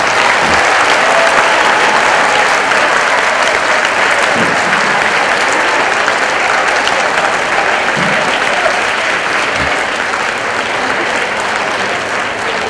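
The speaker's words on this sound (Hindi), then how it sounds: "तो अपने लिए फिर से तालियां बजाओ." Sustained, dense applause from a school audience at a CPR training camp session, loud and steady for over twelve seconds, a crowd clapping in unison with occasional low thumps and no speech.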